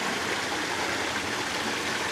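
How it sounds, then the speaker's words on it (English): A waterfall at Moara Dracului, on a mountain trail to Omu Peak, gives off a steady, dense roar of rushing water. It stays loud and even throughout, with no voices. "Yeah, it's a waterfall."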